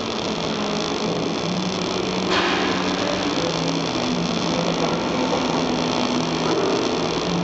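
MIG welding on a vertical joint, heard as a steady, continuous buzzing crackle with an electrical hum running underneath. It stays close and even throughout, with no voices.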